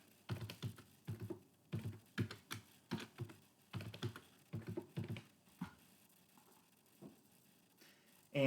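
Password being typed on a computer keyboard: a steady run of light key clicks in quick bursts over about five seconds, then a few scattered taps, fairly close and on their own with no talking.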